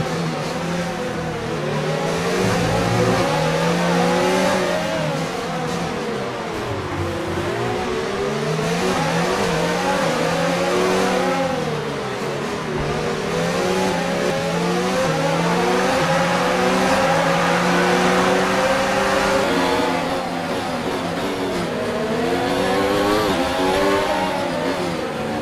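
F1 cars from the F1 2019 racing game on the Singapore street circuit, engines screaming and revving continuously at close range, with pitch rising and falling through gear changes as several cars race together, steady and loud throughout.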